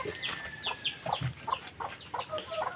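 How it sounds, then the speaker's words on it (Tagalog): Stray chickens cluck repeatedly in short, uneven calls, fairly close but quiet, with no voices over them. "Mayroong mga ligaw na manok."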